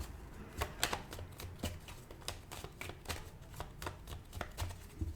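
Lenormand cards shuffled by hand: a quiet, steady run of crisp snapping clicks, about two or three a second, close up and with no voices.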